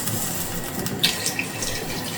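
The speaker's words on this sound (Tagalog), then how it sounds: "Dagdag ulit tayo ng tubig, mainit." Hot water poured into a pot of Romanian meatball soup, a steady hiss of running liquid with a faint splash or clink partway through, close and moderately quiet.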